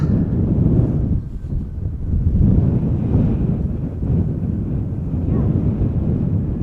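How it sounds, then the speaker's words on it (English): Wind buffeting an outdoor microphone near Schiphol Airport, a rough low rumble that surges and eases in gusts throughout, with no clear voices. "Does feel like the wind is picking up a little bit."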